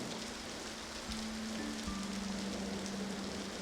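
Heavy rain pours steadily, a dense unbroken hiss of water on surfaces with a faint low tonal hum underneath, constant and loud throughout.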